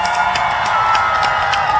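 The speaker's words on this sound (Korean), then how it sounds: "이분들께 박수 한 번만 부탁드리겠습니다" A concert audience at an outdoor show in Uiseong claps and cheers for a fan club, a loud, dense wash of applause and shouts that runs unbroken throughout.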